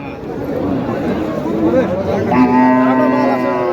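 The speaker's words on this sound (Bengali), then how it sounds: "ও আচ্ছা আচ্ছা খুবই সুন্দর গরু" A cow lowing at a busy cattle market held before the Eid sacrifice in Dhamrai, Dhaka, with a drawn-out moo rising near the end over a steady murmur of crowd chatter and nearby talk.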